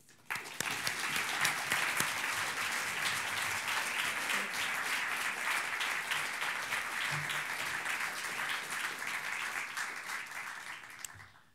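An audience applauds steadily for about eleven seconds in a lecture hall as writer Rebecca Solnit is welcomed, a dense sustained wash of clapping that swells quickly and tapers slightly toward the end.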